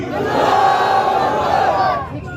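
A large crowd at an election campaign rally in Naregaon, Aurangabad, roaring a sustained chanted response to a Takbir slogan, loud and massed for about two seconds before trailing off.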